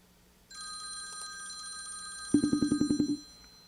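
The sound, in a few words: telephone ringing during a call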